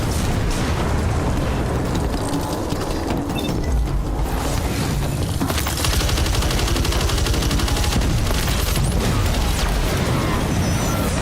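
Continuous rattling gunfire and booming blasts fill a pirate video game battle, dense and loud throughout with no pauses, the volume steady from start to finish.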